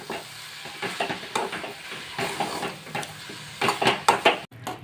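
Carrot halwa being stirred in a pan, with repeated close scraping and shuffling strokes in an uneven rhythm and a few louder sweeps near the end, with no voices.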